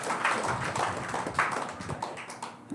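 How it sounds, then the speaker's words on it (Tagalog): A church congregation applauds together, a dense, steady wash of many hands clapping at close range for a few seconds. "malakas sa palakpak para po sa ating pong Panginoon"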